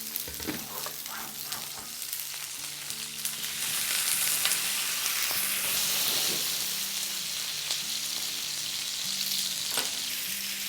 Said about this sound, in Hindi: ये एक सिजलिंग साउंड का एक मज़ा ही अलग है